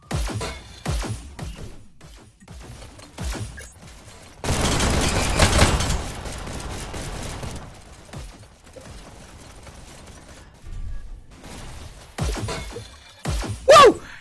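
Sharp bursts of gunfire and smashing impacts from a VR shooter game, scattered cracks early on, a dense loud stretch of fire in the middle, then sparse hits and a final loud burst.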